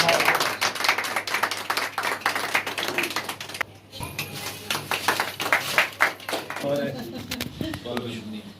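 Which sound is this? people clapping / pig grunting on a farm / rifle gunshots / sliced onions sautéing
people clapping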